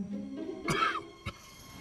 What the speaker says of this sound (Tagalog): Inuubo ka ba?